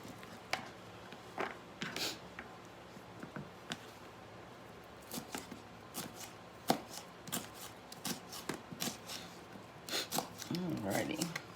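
A knife slices potatoes very thin for homemade chips on a cutting board, giving a run of quiet, close, irregular chops and taps that thicken into a soft scraping toward the end.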